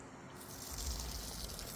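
Coolant drawn out of a car's expansion tank by a small battery-operated transfer pump, a steady liquid trickle and gurgle with a low hum that swells partway through, heard close and alone.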